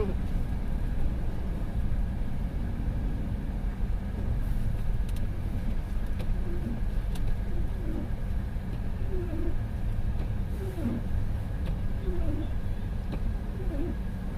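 A car stuck in heavy snow spins its wheel in reverse, a steady low engine drone and churning rumble running throughout, with people talking faintly over it.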